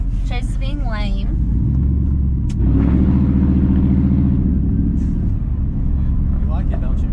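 A straight-piped pickup truck engine rumbles low and loud while driving, a deep continuous drone with a brief rise as it accelerates, while people talk over it now and then.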